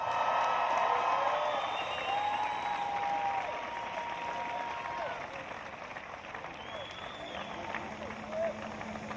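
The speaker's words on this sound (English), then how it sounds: "Let's give a big round of applause for all of our women." A large arena crowd at a CrossFit championship in Dubai applauds and cheers for the women athletes, with sustained loud clapping, whoops and a public-address voice over the top.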